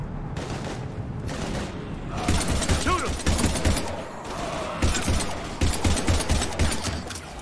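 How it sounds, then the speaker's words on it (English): Heavy gunfire in Mass Effect Legendary Edition: rapid, close bursts of weapon shots repeat in clusters, with quieter pauses between them. A voice speaks briefly in the opening seconds. "We're almost to the Normandy. I've got Lieutenant Vega with me, but we're taking heavy fire."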